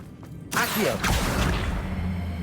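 A quick Accio summoning spell whoosh in Hogwarts Legacy sweeps in after a brief quiet moment, a bright rushing swish with a second flourish as it settles into a low hum.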